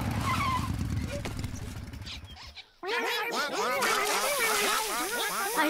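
A motorcycle engine in a Rabbids video game roars up close, then cuts briefly to near silence before a lively stretch of chattering cartoon voices and squeaky sounds takes over.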